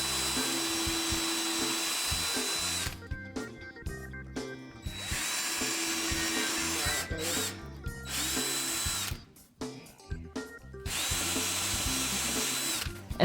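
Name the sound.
power drill drilling through a wooden heart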